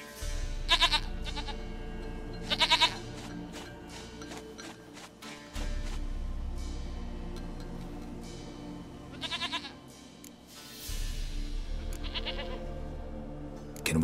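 A goat in The Witcher 3 bleats in several short bursts over a low ambient game drone, the calls fairly close and distinct, separated by quiet stretches.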